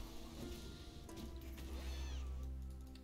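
A cat meows in League of Legends, with drawn-out wailing calls over a busy bed of game effects and music, moderately quiet overall.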